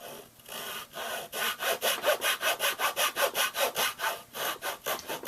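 A hand saw cuts into a wooden kirar tailpiece, a brisk run of about twenty rhythmic back-and-forth rasping strokes, close and clear with no talking.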